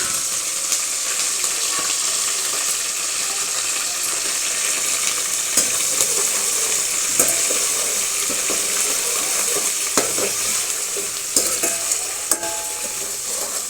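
Mint, coriander and curry leaves fry in hot oil with a steady, close crackling hiss, broken by occasional sharper pops and light stirring scrapes, with no voices.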